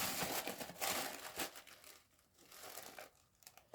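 Close crinkling and rustling of paper packing from inside a Loewe bag in irregular bursts, loud at first, then quieter handling with a few sharp crackles near the end.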